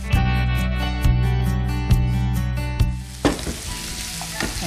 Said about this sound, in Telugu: సో చిన్నగా తురుముకున్న ఆనియన్ ముక్కలు వేసుకుంది ఇప్పుడు.